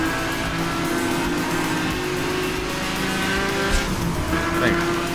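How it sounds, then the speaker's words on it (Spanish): Racing car engine effects from the Need for Speed Hot Pursuit video game roar loudly and steadily, with tire squeal and skidding, while someone talks over the gameplay. "Vamos a subir los efectos del motor"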